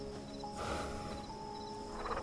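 A horse in the Hytale video game gives a whinny-like call over a steady game backdrop, with faint hoof-like clopping and a tonal hum running throughout; no talking.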